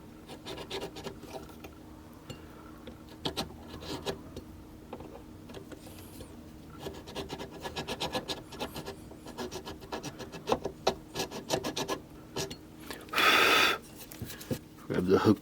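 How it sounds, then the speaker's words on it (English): A small hand saw rasps away old glue in a fret slot on a bound guitar neck, giving quiet, steady back-and-forth scratching strokes close up, with a brief louder burst near the end. "I'm gonna just saw it away"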